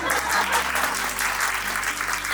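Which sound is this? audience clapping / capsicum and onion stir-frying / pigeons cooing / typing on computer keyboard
audience clapping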